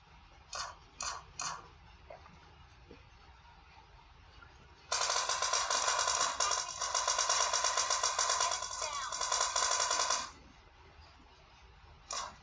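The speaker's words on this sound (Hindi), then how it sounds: "कहाँ से गोली मारी? अबे कहाँ से मार रहा है यार?" Rapid automatic gunfire in the PUBG Mobile Lite video game, a few short separate bursts followed by a long sustained volley of several seconds and then more brief shots, loud and close against quiet game ambience.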